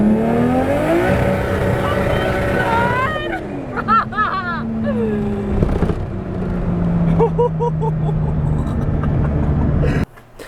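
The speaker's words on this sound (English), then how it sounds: "she's going to be in the car with me, going zoom zoom around Rowville" A Toyota Supra with a 2JZ-GTE engine and G35-1050 turbo drives and accelerates with a loud, sustained engine roar, pitch sweeping up through gear changes and settling into a steady drone, voices talking underneath until it cuts off abruptly near the end.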